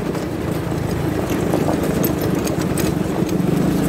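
A quad bike (ATV) engine drives through the streets of Ataco, a steady, loud mid-pitched engine drone running continuously with no breaks.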